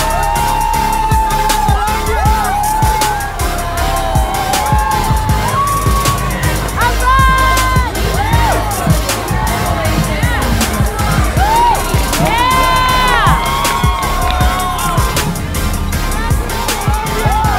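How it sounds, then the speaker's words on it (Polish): A large crowd at the New York City Marathon finish roars, shouts and whistles continuously, loud and dense, with voices overlapping across the whole stretch and a busy street din underneath. "Obcy tłum podnosi cię i niesie wrzaskiem do końca."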